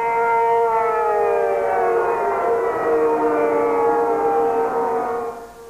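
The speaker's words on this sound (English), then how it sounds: "Those still asleep, however, were roused by the daunting sound of air raid sirens." Air raid sirens wail across a city during the 1991 Gulf War in Riyadh, a loud, steady multi-tone drone with slowly gliding pitches that holds for several seconds and then begins to fade.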